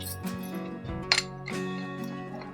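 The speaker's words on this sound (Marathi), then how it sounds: "आता आपण कुकरचं झाकण लावून घेऊया" A few light metallic clinks and a sharp click as a pressure cooker lid is fitted and locked into place, close by, with faint background hum.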